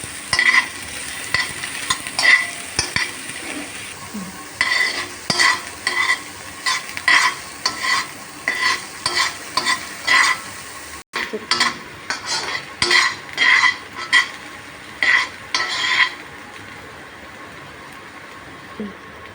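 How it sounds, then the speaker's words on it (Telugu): Onions frying in a pan for cheesy pasta, heard as bursts of scraping stirring strokes over a steady sizzle, near and fairly loud, with a brief pause midway and no talking. "ఆనియన్స్ కూడా కొంచెం కలర్ చేంజ్ అయ్యేంత వరకు వేయించుకోవాలి."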